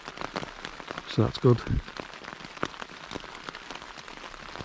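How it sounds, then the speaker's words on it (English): Heavy rain patters on a Lanshan 1 Plus ultralight tent pitched in the woods, a dense drumming of drops with louder, irregular taps, while a person speaks quietly over it. "The rain's been quite heavy for the last few hours"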